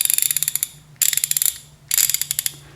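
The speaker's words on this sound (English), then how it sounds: "If you listen to the sound of this Craftsman" A Craftsman hand ratchet clicks in three quick bursts of rapid, bright pawl clicks, each run lasting under a second with short pauses between, close and loud with no talking.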